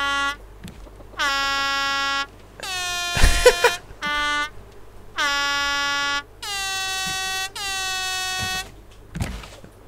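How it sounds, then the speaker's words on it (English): Air horn in the survival video game Raft, sounded in six long, loud, steady blasts separated by short gaps, with a few clunks and knocks between them. "What a most excellent air horn."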